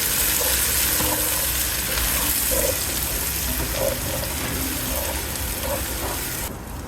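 Onions fry in a pan for a Bangladeshi-style duck curry, a loud continuous sizzle with bubbling and stirring throughout that drops off slightly at the very end, with no speech.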